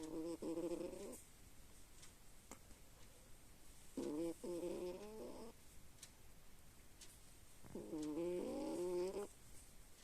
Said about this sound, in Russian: ты чё храпишь так?